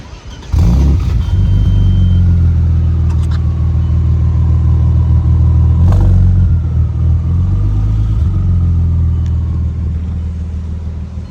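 A 2000 Audi S4 B5 with stage 2 tuning starting up and running, a loud close engine that settles into a deep steady idle with a couple of light blips, no talk.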